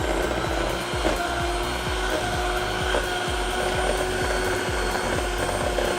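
An electric mixer beats margarine, butter and powdered sugar for nastar pastry dough, a loud, steady whirring drone with a rapid rhythmic chop running throughout.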